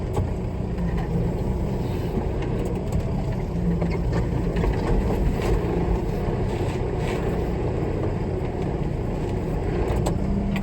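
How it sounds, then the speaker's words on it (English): Tractor backing up to hitch a bale trailer in a hay field, a steady close engine rumble running loud and unbroken throughout with no voices. "Get this trailer hooked up."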